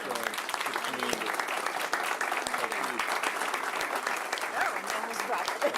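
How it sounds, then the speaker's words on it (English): Sustained audience applause fills a city council meeting in Oak Ridge, dense steady clapping from a room of people honoring a community member, with voices talking faintly underneath throughout. "give a round of applause for Christine"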